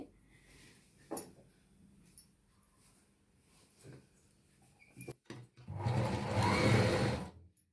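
A sewing machine stitching a two-layer kids' lehenga runs in one loud, steady burst near the end, after a stretch of quiet handling and fabric noises.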